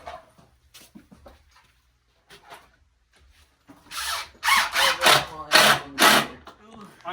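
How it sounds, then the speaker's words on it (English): A power drill drives screws into wood while building a space for meat birds, with quiet clicks and handling first, then several loud close bursts of whirring drilling. "I just grabbed a different drill."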